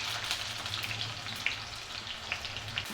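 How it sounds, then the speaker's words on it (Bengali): Chopped onion fries in oil in a pan with a faint, steady sizzle broken by scattered light crackles and spits, heard alone without talk. "হালকা ব্রাউন করে কিন্তু পেঁয়াজটাকে ভাজবো।"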